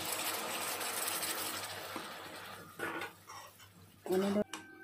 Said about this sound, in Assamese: এনেদৰেই গোটেইখিনি মিক্স কৰি এতিয়া আকৌ মই অলপ উতলিব দিম